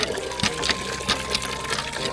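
Water gushing from a hand pump in a village in Tando Allahyar, Sindh, a steady close splashing flow with rhythmic surges from the pumping.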